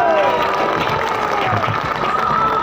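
Loud applause and crowd noise at a large outdoor political gathering in Doomdooma, Tinsukia District, a thick, unbroken wash of clapping and cheering with a tonal sound running through it.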